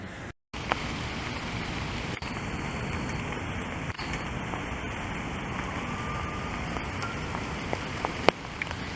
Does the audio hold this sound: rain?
yes